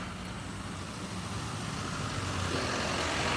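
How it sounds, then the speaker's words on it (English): Heavy traffic rumbles along a busy main street in Kennett Square, Pennsylvania, a dense continuous roar of passing cars and trucks close by, swelling slightly louder toward the end, with no speech. "The traffic is insane today."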